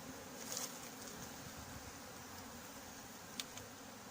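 Bees buzz with a faint, steady drone during a honey extraction from a bee colony living inside a huge coral rock, with no talking.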